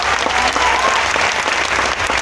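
An audience claps for stage performers at a live show, a dense burst of steady applause filling the whole moment.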